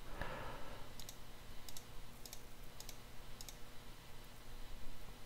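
A computer mouse clicks while someone edits in Adobe Premiere Pro, giving about five quiet double clicks at a steady pace over a low room hum.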